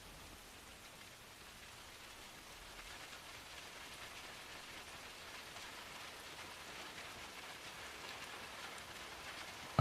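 Steady rain falls and patters on surfaces as a soft, even, continuous hiss that swells slightly toward the end, with no voices or other sounds.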